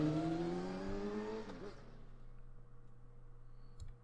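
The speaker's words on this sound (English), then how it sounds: "Oh yeah, doing the burnouts." Car burnouts in the cyberpunk video game Ruiner: a rising engine whine with tire roar that fades to a low hum within about two seconds, fairly quiet.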